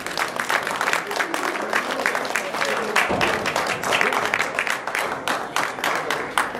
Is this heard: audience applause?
yes